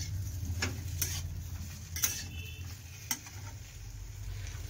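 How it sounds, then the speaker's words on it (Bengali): Taro pieces fry in a pan under a quiet sizzle and low hum, with a few sharp spatula scrapes and clicks as they are stirred. "নাড়াচাড়া করে নিচ্ছে।"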